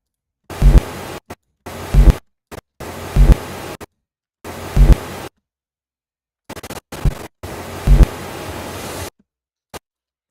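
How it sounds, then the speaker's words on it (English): Harsh bursts of crackling digital noise cut in and out abruptly, several choppy stuttering blasts separated by dead silence. "Glitch effect."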